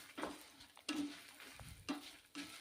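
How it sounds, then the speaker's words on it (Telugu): Dried red chillies frying in a pan while a utensil stirs them, sizzling steadily with several distinct scraping strokes, close and fairly quiet, no voices. "ఇప్పుడు మనం ఎండుమిరపకాయలు వేసి వేయించుకుందాం"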